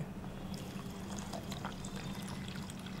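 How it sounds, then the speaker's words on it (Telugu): Water is poured steadily into sugar for jalebi syrup, a soft, continuous trickling fill heard quietly and alone. "1/2 kg షుగర్ కి ఒక 100-120 ml వాటర్ వేసేసేయండి."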